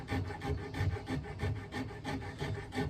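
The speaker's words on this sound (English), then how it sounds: "Then we'll take a little rasp, small rasp, and do some final shaping here." A small rasp scrapes in steady back-and-forth strokes over the wooden neck of a guitar being rough-shaped, about eight rhythmic rasping passes, close and moderately quiet.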